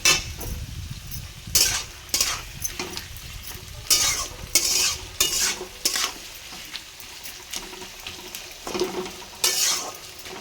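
Salted onions frying in a pan for a chicken curry, loud sizzling broken by repeated scraping strokes of a spatula against the metal, with occasional clanks of the pan, close by and without speech.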